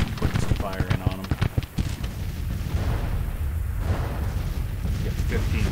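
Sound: artillery fire in the video game Grand Tactician Civil War

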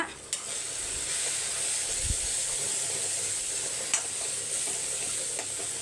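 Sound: stirring chili powder into a sizzling pan

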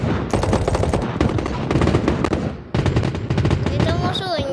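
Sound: gunfire from a mobile shooter video game

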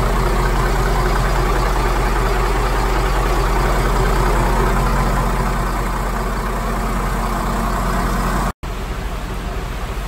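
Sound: 2007 Formula 45 boat engines and generator running

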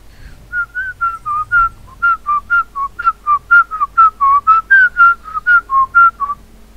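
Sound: person whistling

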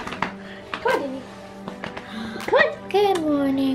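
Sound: pet dog whimpering in the morning

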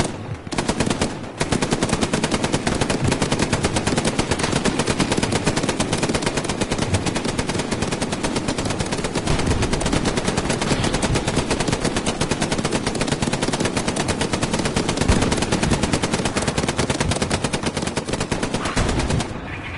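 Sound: machine gun firing in a video game

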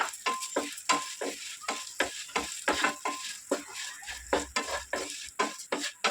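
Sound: flattened rice (poha) frying in ghee

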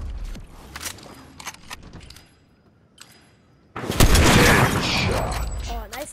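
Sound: sniper rifle shots in Fortnite video game

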